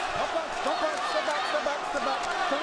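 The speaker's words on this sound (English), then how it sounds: "You can hear the crowd already" Dense roar of a boxing arena crowd cheering for the home fighter, steady and loud throughout, with a commentator's voice talking over it.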